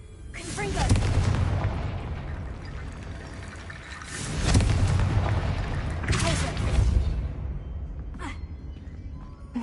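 Booming Confringo spell blasts in Hogwarts Legacy, several loud surging explosions with crackling debris and fading tails, spaced a few seconds apart and heard alone.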